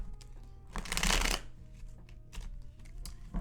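A deck of tarot cards riffled and shuffled by hand during a pick-a-card reading, one loud close burst of papery flapping followed by softer rustles and taps, with no talk.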